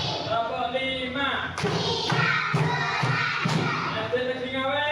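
A group of students clapping hands in unison in a classroom, with several sharp, even claps standing out over a steady murmur of voices.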